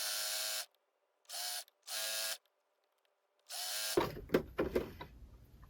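A sewing machine stitching along scrunchie edges in several loud, close bursts of rapid whirring with pauses between, followed by cloth rustling and handling noises.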